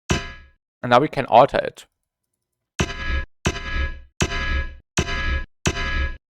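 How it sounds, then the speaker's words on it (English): Someone speaks briefly, then an atonal bass sound from a compression plugin demo hits five times in an even rhythm, each a short, loud, clanging burst with a heavy low end. "Another example is this atonal bass right here."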